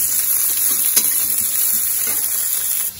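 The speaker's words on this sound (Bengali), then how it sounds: "ফুলকপি ভেজে নিচ্ছি।" Cauliflower fries in a pan of hot oil, a loud, steady, close sizzle that hisses without pause, with a couple of faint pops and stirring knocks and no talking.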